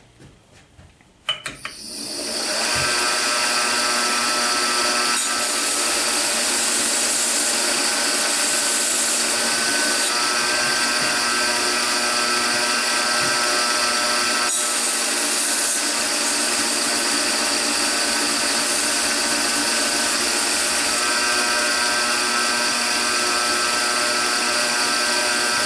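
Belt grinder with a 120 grit belt refining a hollow-ground knife bevel, spinning up after a sharp click and then running loud and steady with a bright, rough grinding hiss for the whole stretch.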